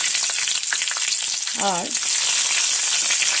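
Bay leaf and slit green chillies fry in hot oil, a loud continuous sizzle that runs the whole time, with a brief spoken word partway through.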